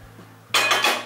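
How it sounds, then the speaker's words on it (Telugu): A metal kadai is set down on a stove with a sharp clank, followed by a couple of brief metallic clinks as it settles, over a faint low background hum. "ఒక కడాయి పెట్టుకుని"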